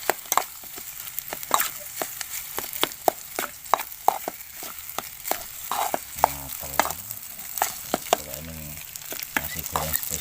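Fried rice (nasi goreng) sizzles steadily in a pan at a camping cookout, with a constant loud frying hiss and repeated close scraping clicks of a spatula stirring and tossing the rice.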